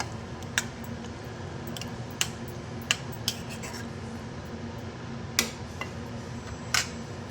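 Prawns being stirred in a cooking pan, heard as a handful of sharp, isolated utensil clinks and scrapes against the pan spread over a steady low background hum, fairly quiet and with no talking.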